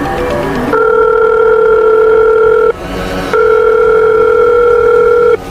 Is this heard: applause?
no